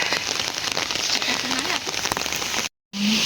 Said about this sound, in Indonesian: inilah suasana hujan di kampung ya